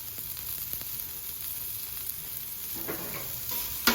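Butternut squash cubes seasoned with garlic powder, salt and pepper sizzle steadily on a flat top griddle, a soft continuous frying hiss with a few faint scrapes and clicks of stirring toward the end.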